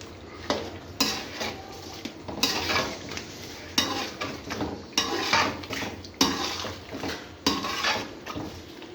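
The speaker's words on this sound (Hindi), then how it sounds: "अब यहाँ पे करना क्या है, हल्का से इनको मिक्स करना है।" Achari chicken is gently mixed in a pot, giving repeated scraping and clanking strokes of a spoon against metal in an uneven rhythm, close and fairly loud with a faint sizzle underneath and no voices.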